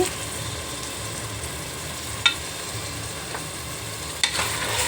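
Mutton pieces frying in a pan, a steady soft sizzle running throughout with two brief metallic clicks of a utensil against the pan.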